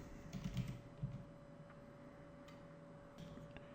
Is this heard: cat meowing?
no